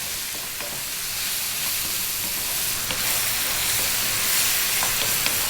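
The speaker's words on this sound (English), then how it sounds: "stirring fairly often" A pan of sausage and mushroom pasta sauce with herbs such as tarragon and sage sizzles steadily while being stirred, giving a continuous frying hiss with faint scrapes and clicks of the spoon and no talking.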